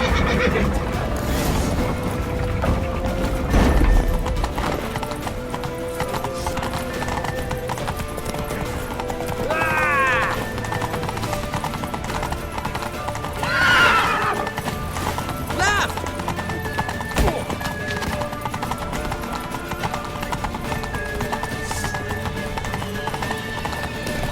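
Horses galloping in The Witcher 3, with rapid hoof clip-clop throughout, several neighs and whinnies, and shouting voices over the steady beat during a chase.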